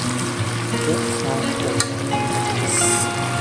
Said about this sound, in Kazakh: өте баяу да емес, орташа орта осылай қуырып аламыз